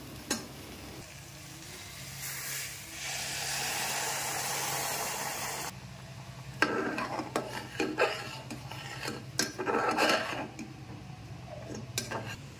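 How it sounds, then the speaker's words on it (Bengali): Hot water pours into Odisha-style dalma cooking in a pan, a steady rushing splash and sizzle that drops off partway, followed by stirring, scraping and clattering of the pan, with no talking. "এই গরম জলটা আমি ওর মধ্যে দিয়ে দেবো।"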